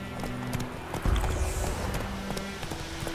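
Horse hooves clip-clopping at a steady walk in The Witcher 3: Wild Hunt, a close, soft rhythmic patter under a low ambient bed of game music.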